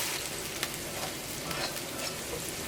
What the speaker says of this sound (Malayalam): എല്ലാം കൂടിയിട്ടൊന്ന് വഴറ്റിയെടുക്കുക.